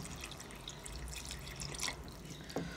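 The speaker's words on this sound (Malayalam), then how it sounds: "നമ്മൾ ഏകദേശം ഒരു ഗ്ലാസ് വെള്ളമാണ് ഇതിലേക്ക് ഒഴിച്ചു കൊടുത്തിരിക്കുന്നത്" Water poured from a glass into a pot of vegetable curry, a faint trickling splash with a few drips, quiet and close.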